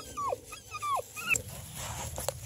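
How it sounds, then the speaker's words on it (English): Six-week-old beagle puppies whimpering and whining in short high-pitched cries, a few yelps close by, over a faint background rustle. "so there's some rowdy puppies right here"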